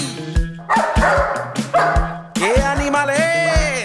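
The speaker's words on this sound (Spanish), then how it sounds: "¡El perro!" A dog barks in a children's animal sounds song, with a string of loud, close yaps and yips set over a bouncy musical backing; a voice asks a question partway through.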